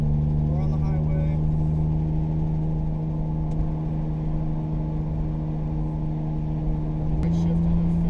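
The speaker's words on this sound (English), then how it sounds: "right now we are driving the Supra" A 1980s Toyota MK2 Supra cruising on a highway, heard from inside the cabin as a steady low engine drone with constant road rumble, a slight pitch shift near the end.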